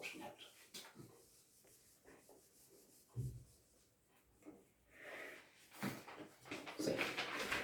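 Writing being rubbed out on a board, with faint, scratchy rubbing strokes in irregular bursts that grow louder and busier toward the end.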